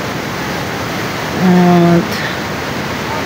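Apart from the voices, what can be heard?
strong rushing water flowing from a cave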